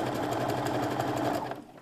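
Sewing machine stitching satin ribbon onto a skirt waistband, a steady, loud, fast mechanical whirr that runs continuously and then stops near the end.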